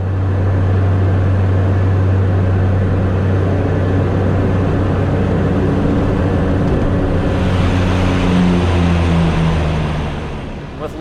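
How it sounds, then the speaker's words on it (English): A Cessna turboprop touching down on a runway, its steady engine and propeller drone loud and close in the cabin, with low tones shifting as power changes toward the end. "And just flying the airplane onto the runway."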